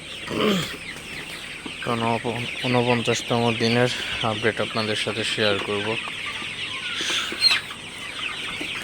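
Sonali super hybrid chickens on a farm cluck and chatter in a shed, several loud rhythmic calls in a row from a nearby bird, while someone talks over them.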